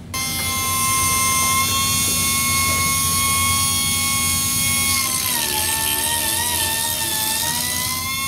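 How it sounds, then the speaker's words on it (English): A steady, loud whining grind runs without a break as a tool chamfers the port of a bored two-stroke cylinder, its pitch dipping slightly partway through. "I'm going to actually have controlled grinding to go up and go across the port"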